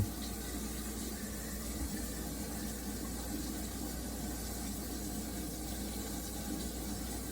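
Water runs from a tap into a kitchen sink fitted with a garbage disposal and P-trap, a steady faint hiss and splash, continuous and even with no talk.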